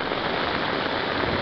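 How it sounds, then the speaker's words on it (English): Heavy monsoon rain pours down in Barangka, Marikina City, during flooding, a dense, unbroken roar of rainfall at close range with no voices. "heavy floods caused by heavy rains"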